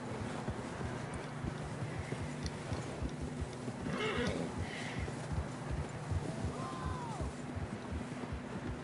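Horses in the open world of Red Dead Redemption 2, with a low hoof rhythm running steadily under ambient outdoor noise and a brief whinny rising around the middle, set in an echoing landscape.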